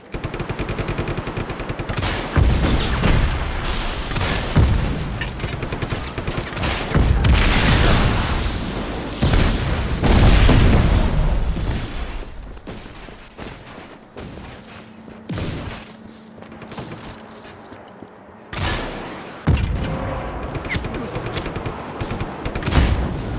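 Rapid bursts of Just Cause 3 gunfire and explosions, loud and dense, with a few brief pauses and a low hum in between.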